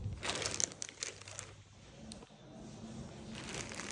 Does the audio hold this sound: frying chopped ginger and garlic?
no